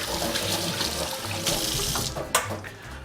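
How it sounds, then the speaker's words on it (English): Tap water runs steadily into a sink as hands are washed, a continuous close hiss and splash with a brief clatter near the end; no one speaks. "Just wash my hands."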